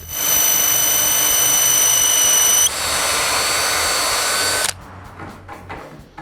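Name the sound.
power drill drilling through wood molding with 3/16 bit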